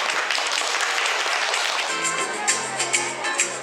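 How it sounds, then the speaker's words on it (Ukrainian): Lively audience applause in a school class performance setting, dense continuous clapping that holds steady, with a few louder individual claps toward the end. "Зустрічайте бурхливими оплесками."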